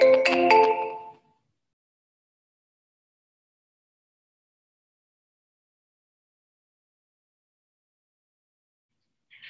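A phone ringtone sounds once, a short melodic burst at the start, after a number is dialed in the JustCall calling app. Silence follows, with a faint tone starting again at the end.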